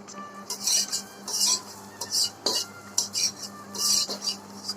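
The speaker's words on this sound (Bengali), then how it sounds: "সয়াবিনগুলো আমি একটু ভেজে নেবো" A spoon scrapes and clatters in a pan while soybean chunks fry, a close, repeating burst-by-burst stirring rhythm with scraping metal and a soft sizzle beneath.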